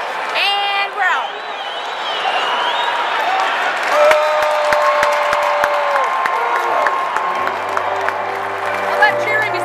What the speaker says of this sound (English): All that cheering is the Yankees fans.